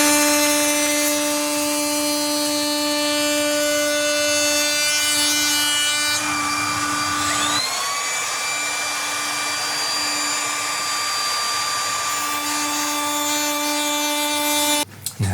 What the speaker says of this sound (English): I'll route this to shape